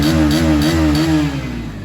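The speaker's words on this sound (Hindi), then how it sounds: "This is the normal sound of NS 160 after getting stress on RPM" A Bajaj Pulsar NS 160 motorcycle engine revs hard at high RPM, a loud, close, steady mechanical roar with a few pulsing surges before easing slightly, with no talking over it.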